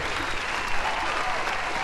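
A crowd cheers and applauds steadily throughout, a dense, continuous wash of clapping and voices at a constant level with no pauses.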